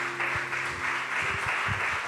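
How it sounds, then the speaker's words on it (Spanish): Steady congregational applause fills a church, a broad sheet of clapping over a low hum, with a few heavier thumps or stomps breaking through underneath. "Denle un fuerte aplauso al Señor"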